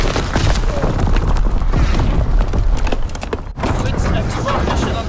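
Mortar rounds burst during a Call of Duty WWII battle, a dense continuous barrage of booms and crackling impacts, loud and close, with voices talking over the din.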